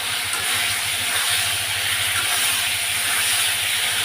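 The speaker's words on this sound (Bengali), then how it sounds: "তা এখন কষিয়ে নেব।" A spice paste of turmeric, chili, cumin, ginger, green chili and tomato sautés in a pan, giving a loud continuous hiss and sizzle that stays steady throughout.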